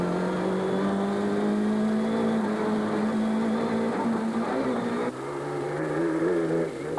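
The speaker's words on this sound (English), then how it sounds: "Race cam action is from the Coetzee Leek Toyota at high speed through the streets of Vetna." Coetzee Leek Toyota rally car at high speed through the streets of Vetna, heard from inside: a loud, steady engine drone holding high revs, then a brief dip and renewed pull.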